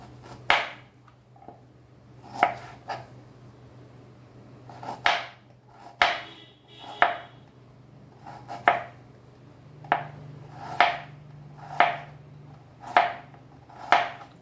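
A knife chops carrot on a cutting board for a green salad, giving about a dozen crisp, separate thunks at an uneven, unhurried pace, close and clear against a faint steady hum.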